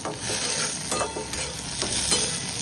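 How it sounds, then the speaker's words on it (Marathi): Tomatoes with curry leaves and onion sautéing in a pan sizzle and fry steadily and close, with a few stirring scrapes breaking through the constant hiss. "टमाटर मस्त परतलेले मोठे झालेले"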